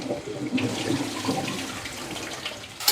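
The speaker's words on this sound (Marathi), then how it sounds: "आता हे चांगल्या स्वच्छ पाण्याने धुवून घेते मी." Rice and toor dal are washed in clean water, a close, steady slosh and swirl of water over grains lasting a few seconds, with a brief louder splash at the end.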